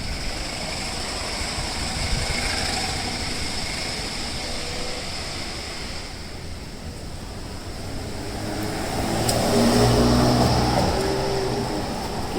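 A Can-Am Ryker three-wheeler speeds up along a highway: a steady, broad wind-and-road roar with an engine hum that swells louder toward the end, and no voices.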